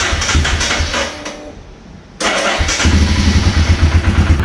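A motorcycle engine cranks and fires into a rough, loud idle close by, with an earlier stretch of engine noise before a brief lull.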